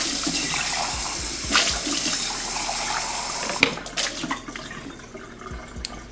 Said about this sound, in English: This thing too, all I do is rinse it out.